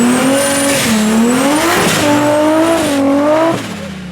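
BMW M5 street race cars roaring under hard acceleration in an underground street race, steady loud engine drone with rising and falling pitch that eases off near the end.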